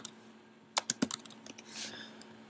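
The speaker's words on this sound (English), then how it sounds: "I'm gonna go and type in some text" Typing on a computer keyboard, a quick cluster of sharp clicks followed by a softer run of keystrokes over faint steady hum, close and fairly quiet, no talk.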